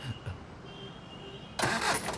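A car engine cranks and catches partway through, a short burst of starter noise followed by the motor rumbling to life close by.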